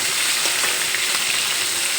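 Pieces of rohu fish fry in a pan, giving a steady, close, hissing sizzle with faint crackles throughout.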